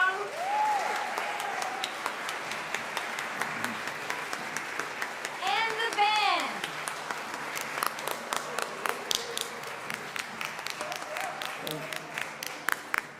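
A live audience at a community gathering applauds a performer and his band, with steady clapping and a few cheers and whoops running underneath a speaker's voice throughout.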